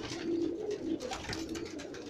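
Pigeons coo on a rooftop loft in a steady, close, low rolling murmur of overlapping calls with no talk.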